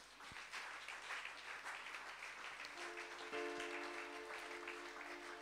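A church congregation applauding during a service, a steady wash of clapping throughout, fairly faint and distant with a sustained tonal hum joining partway through.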